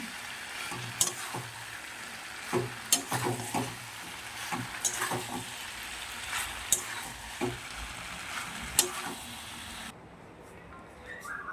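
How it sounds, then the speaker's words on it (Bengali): Chicken pakoras for chilli chicken fry quietly in a pan as a spatula scrapes and knocks against it every second or so, a low sizzle beneath the stirring, and the sound drops away near the end. "সব পকোড়াগুলো আমি দিয়ে দিলাম। এবার একটু নাড়াচাড়া করে নেব।"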